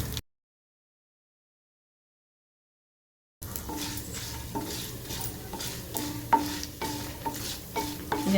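Whole dried red chillies and brinjal sautéing in a pan, a moderate sizzle after a silent stretch, with repeated spoon clinks and scrapes against the pan, no talking.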